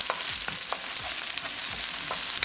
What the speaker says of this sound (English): we're going to cook onion until they are nicely translucent. So keep it moving